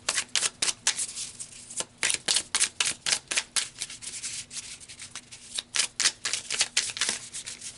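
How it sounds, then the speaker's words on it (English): A deck of tarot cards is shuffled by hand close up, a rapid run of crisp riffling slaps and rubs in an uneven rhythm that lasts the whole time, with no voice. "So let's pull some cards."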